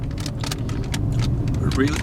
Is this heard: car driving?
yes